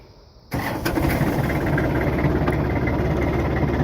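A backhoe engine cranks over and catches with a sudden loud roar, then settles into a steady, close, rumbling idle running a little above low revs.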